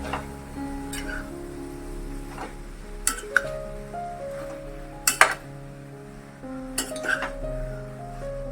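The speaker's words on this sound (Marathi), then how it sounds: "भाजी चांगली ढवळून घ्यायची गॅस पेक्षा कमी करायचा भाजी लागू नये म्हणून" Fodshi bhaji, a wild leafy vegetable, being stirred in a pan on low heat, with sharp metallic clinks of the spoon against the pan every second or two over a quiet background.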